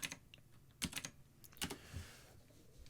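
Keys on a computer keyboard clack in irregular bursts as commands are typed into a terminal, close and moderately quiet with short pauses between strokes.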